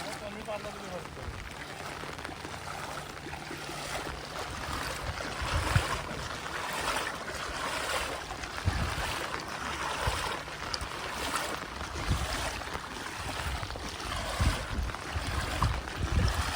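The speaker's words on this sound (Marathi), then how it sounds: "लय स्पीडमध्ये भरते रे पाणी लय स्पीडमध्ये पाणी भरते" Floodwater rushes fast after three days of rain in a village, a broad, continuous roar of moving water with brief voices in the background.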